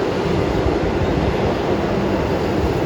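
An Indian Railways train rumbles past close by, a steady, loud roar of wheels and carriages that fills the whole stretch without pause.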